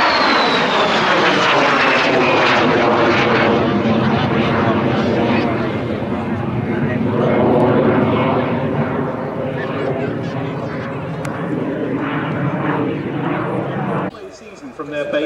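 A de Havilland DH 100 Vampire jet, an early Royal Norwegian Air Force type, makes a flying display pass at Rygge in Norway. Its loud, roaring jet engine whooshes continuously and swells and fades as the aircraft passes, then drops off abruptly at the end.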